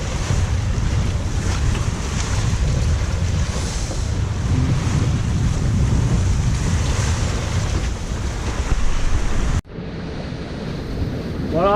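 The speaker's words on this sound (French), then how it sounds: "Bon alors là il y a des rafales" Strong wind gusts roar across the microphone with waves and surf washing past a sailboat heading out from Barcelona in the Mediterranean, loud and continuous, with a brief sudden drop near the end.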